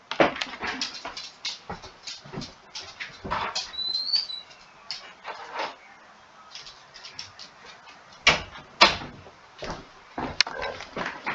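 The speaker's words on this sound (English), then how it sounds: "Hold on, my dog wants to get out." A pet dog whimpers and yips to be let outside, giving repeated high, whiny cries in short bursts with quieter gaps, close to the microphone.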